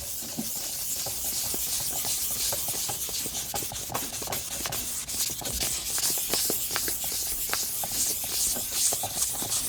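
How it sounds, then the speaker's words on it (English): Fine sandpaper rubbing over a vintage Telstar telephone housing, a steady close scratchy hiss with uneven strokes throughout and no talking. "I'm going to go a little bit more with this finer sandpaper to try to take down some of those thicker spots there"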